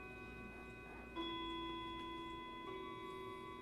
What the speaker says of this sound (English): Oh, sorry, we'll wait for the clock.